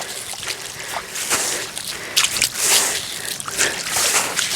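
Water flows into a paddy field, making a steady, moderately loud trickle and slosh with occasional splashy bursts.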